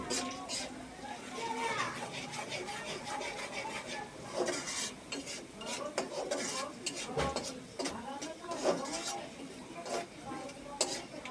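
Salt is stirred into kalmi shak (water spinach) in a pan with repeated scraping and rubbing strokes, under children's voices and chatter in the background.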